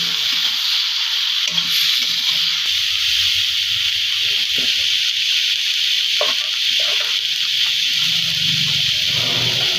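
Spices for tilapia with ridge gourd frying in oil, a steady close sizzling hiss that runs continuously with a few faint scrapes of stirring and no talking.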